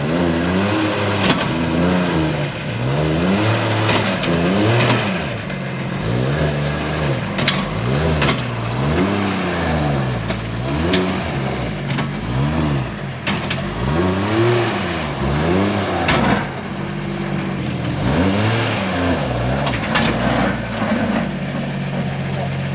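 A Nissan C33 Laurel with a fully forged RB25DET engine is driven while towing a trailer, its engine note rising and falling through repeated revs and gear changes, loud and continuous from start to finish, with a voice talking over it at times.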